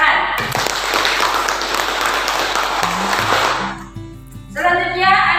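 Students in a classroom clap together after group presentations, a brisk burst of applause that stops abruptly partway through. A voice then speaks close to the microphone.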